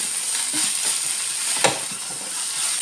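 Ginger and green chillies fry for a date pickle, making a loud, continuous sizzling hiss, with soft scraping from a utensil stirring through the pan.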